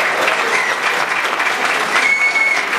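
Dense, steady applause fills a hall at a Latvian motocross championship awards ceremony in the Ogre culture centre, loud and unbroken throughout with no voices on top.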